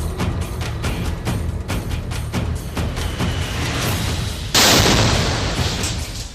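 A flag hung on barbed wire explodes in a sudden loud blast burst that follows a series of rapid sharp cracks resembling gunfire, then the roar slowly decays.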